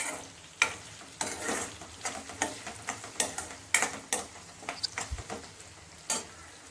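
A paste fries in a pan while it is stirred, giving a soft continuous sizzle under close, periodic scraping taps, with no voices.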